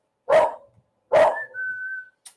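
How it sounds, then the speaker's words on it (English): A dog barks twice in short, close, loud bursts, followed by a thin drawn-out whistling whine and a faint final click. "What are you barking at?"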